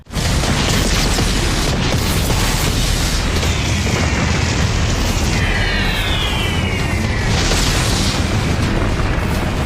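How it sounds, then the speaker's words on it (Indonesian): Loud, dense rumbling bomb blasts in the anime Attack on Titan roll on without pause, booming explosions layered under a continuous wall of noise with sweeping high tones. "Bom-bom itu pun meledak hingga mampu menumbangkan beberapa Titan kolosal"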